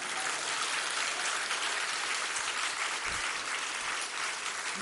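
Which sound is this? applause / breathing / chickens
applause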